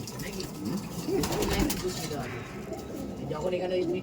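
Baby Madras pigeons coo in a loft, low burbling calls near the start and again toward the end, mixed with rustling and someone speaking throughout.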